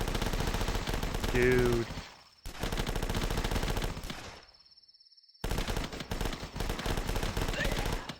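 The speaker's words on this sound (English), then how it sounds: "Take the Uzi for a test drive." Uzi gunfire in The Last Stand zombie flash game: loud, rapid automatic bursts rattle close by, broken by two brief gaps of near silence, with a short spoken exclamation early on.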